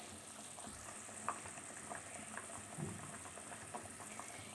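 Broth boils in a cooking pot, a faint, steady bubbling and simmering texture with small scattered pops, quiet and continuous without speech.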